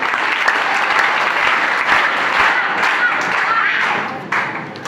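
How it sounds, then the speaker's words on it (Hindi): Audience at a children's class on healthy hostel life breaking into applause, dense rapid clapping from many hands that stays strong for several seconds before thinning and rising again. "तालियां तालियां।"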